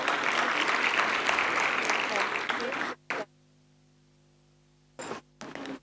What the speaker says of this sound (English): Can we show them our appreciation with another round of applause?